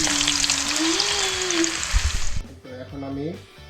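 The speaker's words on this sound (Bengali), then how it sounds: "আলুটাও ভেজে নেব।" Potatoes frying in oil for a coral fish curry give a loud, steady hiss, with a voice talking over it before the sizzle fades and a few clattering knocks follow.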